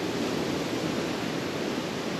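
Strong wind and choppy waves on Lac du Salagou make a continuous, dense rushing roar, loud and steady throughout, with no voices.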